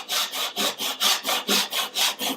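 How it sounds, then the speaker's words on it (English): Hand saw cutting a wooden dovetail joint, a steady back-and-forth rasp of about nine even strokes, close and loud with no talking. "start working into that little groove there. And I'm just eyeing the saw to keep it nice and vertical."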